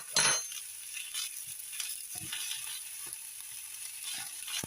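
Egg being stir-fried with pork fried rice in a pan, a soft steady sizzle broken by light scraping and clinking of a utensil against the pan, quiet and close.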